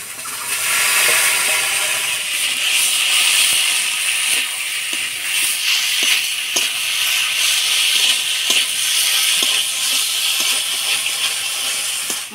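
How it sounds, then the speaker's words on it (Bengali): Boiled taro stolons hiss and sizzle steadily in hot spiced oil in a Bengali home kitchen, a broad continuous fry noise with occasional soft clicks of stirring. "মশলাটা তেলের মধ্যে নাড়াচাড়া করে নিলাম, এবার সিদ্ধ করা কচুরলতিগুলো দিয়ে দেব।"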